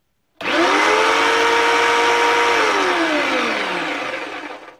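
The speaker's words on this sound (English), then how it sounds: "So the BladeRunner is considerably louder. It actually sounds like a vacuum cleaner to me." A loud tabletop jigsaw, a BladeRunner, starts abruptly with a rising whine, runs at a steady high roar like a vacuum cleaner, then winds down as it switches off.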